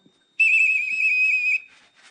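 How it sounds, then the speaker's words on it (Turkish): A whistle blown on a donkey milk farm to call the donkeys to feeding, one sustained shrill blast lasting about a second, loud and clear against a quiet background. "çiftlikteki eşekler işte bu düdük çaldığında yemek saatinin geldiğini anlıyorlar"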